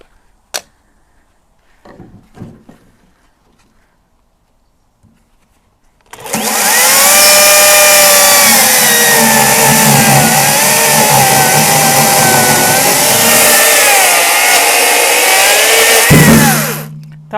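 A small electric saw cuts garden branches into pieces of about 20 centimetres, running as a loud, steady, close whine for around ten seconds before cutting out, after a few soft clicks and knocks.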